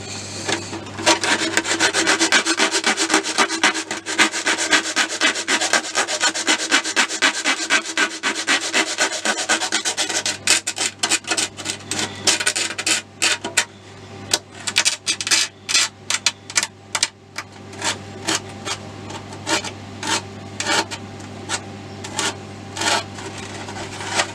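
P80 grit sandpaper scrubs across a plastic RC car body, first as a continuous rasping rub and then as a run of quick, separate back-and-forth strokes, close and fairly loud.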